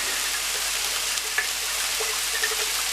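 Chow mein noodles sizzle and fry in a hot pan, a dense, steady crackling hiss with occasional small pops and stirring clicks, close and continuous with no talking.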